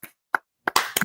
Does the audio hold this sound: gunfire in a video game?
no